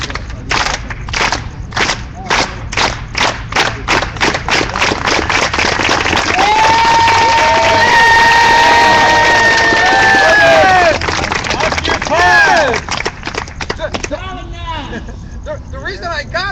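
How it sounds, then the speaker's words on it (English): A crowd at an outdoor gathering in Solidarity Park does a solidarity clap, starting with evenly spaced, accelerating loud claps that swell into continuous applause and cheering, with whoops and voices mixed in before it fades. "let's do a solidarity clap"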